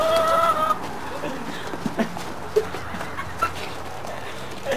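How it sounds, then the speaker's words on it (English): Chickens cluck in a farmyard, short scattered clucks over a steady outdoor background, one near call at the start, then sparse moderate peeps. "Chickens!"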